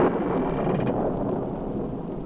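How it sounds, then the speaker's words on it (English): Rumbling thunder and rain from a 1973 Troll Records spooky story vinyl, a deep rolling boom with a hissing rain wash that slowly fades. "listened to the thunder and the rain and wondered when the storm would stop"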